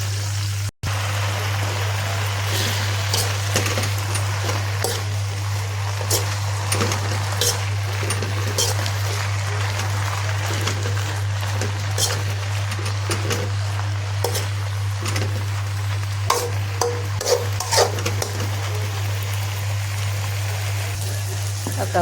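Spinach leaves fry in chili-infused oil in a pan, giving a steady, loud, rain-like sizzle and crackle over a constant low hum, with occasional utensil clinks.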